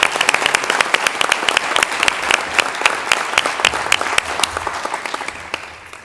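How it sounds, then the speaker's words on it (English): A room at a high school board meeting breaks into loud applause, many distinct claps rippling together close by before gradually thinning and fading out. "let's give her a round of applause as well"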